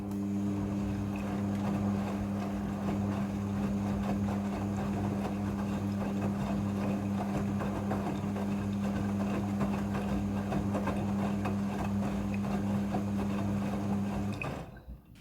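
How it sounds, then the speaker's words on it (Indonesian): A Midea front-loading washing machine in its second spin cycle gives a steady, loud droning hum with a constant tonal whine for about fourteen seconds, then winds down abruptly at the end, with no talking. "Kemudian ini adalah proses pemerasan cucian yang kedua."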